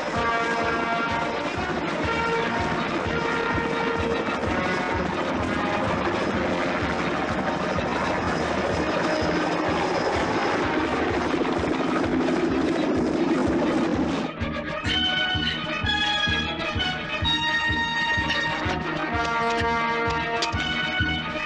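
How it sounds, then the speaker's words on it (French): A helicopter in flight on a 1983 French television game-show set, its steady rotor and engine drone loud and continuous throughout, with a shift in tone partway as music-like tones rise over it. "Allez-y, deuxième hélico."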